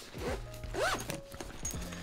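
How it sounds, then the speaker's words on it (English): A zipper is drawn closed on a compact camera sling bag holding a DJI Mini 2 drone and remote, a short close rasp with a few quick pulls. "let's zip this bad boy up"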